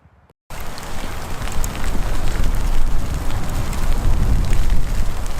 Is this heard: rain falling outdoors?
yes